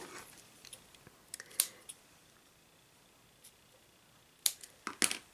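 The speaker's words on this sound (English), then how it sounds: "I'm just going to go ahead and just give the little edges a trimmy trim here." Scissors trimming the edges of a craft piece, a few quiet scattered snips early on followed by a cluster of crisp, close cuts near the end, with no talking.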